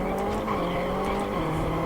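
Tires skid and squeal on a Franciacorta rallycross circuit in the Richard Burns Rally game, a steady engine drone beneath them and faint higher squeal bursts throughout a short stretch, with no one talking.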